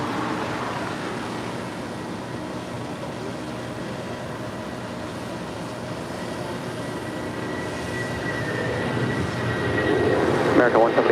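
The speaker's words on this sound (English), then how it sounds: "Our next departure is United Airlines Flight 514 heading to JFK." United Airlines Boeing 757-200 departing from LAX, a loud, steady engine roar that swells toward the end, heard from a distance with broadband rumble.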